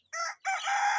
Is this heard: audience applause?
no